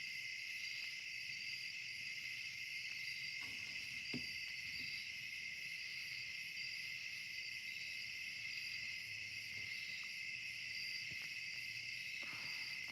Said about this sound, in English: I even have crickets on this.